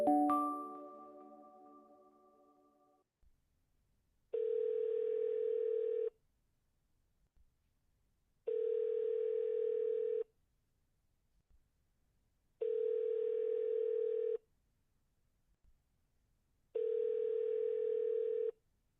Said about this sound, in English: So let's call Candace